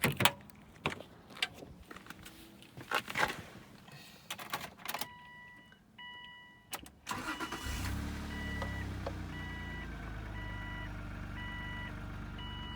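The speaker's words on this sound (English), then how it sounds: "Let me turn it on, and you can hear the clicking noise." A high-mileage 2003 Subaru Outback Limited with its check engine light on gives a series of sharp clicks and chimes as the key turns, then the engine cranks and settles into a steady idle.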